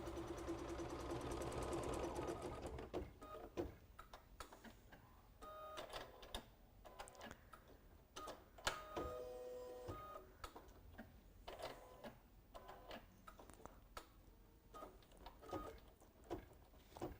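An embroidery machine stitches a Kimberbell Erin crossbody bag, tapping out quick rhythmic needle strokes in uneven runs over a quiet motor whir.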